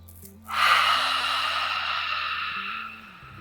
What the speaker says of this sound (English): exhale with open mouth